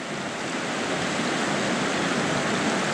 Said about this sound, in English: As the water's flowing hard here.